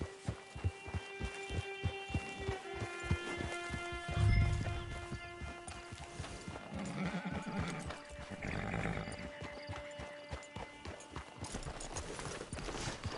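In the Red Dead Redemption 2 video game, hooves clip-clop in a steady rhythm with a horse snorting and whinnying midway, set against a layered ambient music bed.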